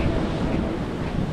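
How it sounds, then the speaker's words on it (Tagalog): Ocean waves wash up onto a shore, a rough, continuous rushing surge close by, mixed with gusty wind buffeting the microphone; no one speaks. "Mula doon, hanggang dito ang abot ng alon."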